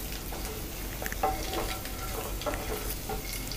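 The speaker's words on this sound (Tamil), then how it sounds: "இன்னும் ஒரு நிமிஷம் நல்லா ஃப்ரை ஆகட்டும்." A steady sizzle of egg masala with chili powder and turmeric frying in a pan, with occasional scrapes and clinks of stirring over the constant crackle.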